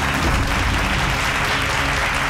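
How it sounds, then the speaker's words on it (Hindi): Enthusiastic applause from an audience at a jewellers' function, a dense continuous clatter of clapping hands lasting a couple of seconds with no voices over it. "जोरदार तालियां इनके लिए।"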